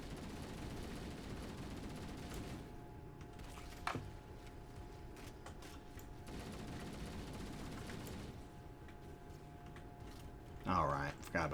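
Gunfire rattles through a Halo: Master Chief Collection match, a steady stream of shots under game noise with a sharp burst near the end.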